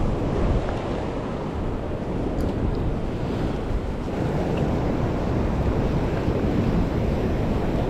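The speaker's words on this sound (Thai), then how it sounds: "คลื่นค่อนข้างแรงครับผมหมายนี้" Strong sea waves surge and crash against a rocky shore at high tide, a loud continuous wash of surf with wind buffeting the microphone throughout, no voices.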